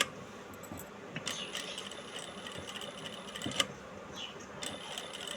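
A sewing machine stitches along the cut-work edge of a boat-neck blouse, giving a faint, close mechanical whir with small ticking and clicking bursts that start and stop over a few seconds.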